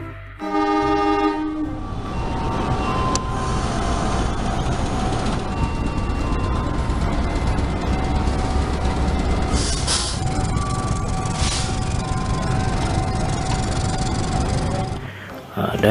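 CC206 locomotive passing with its train, opening with a loud horn blast, then a steady heavy roar of wheels and cars rolling by close, with rhythmic clatter, fading at the end.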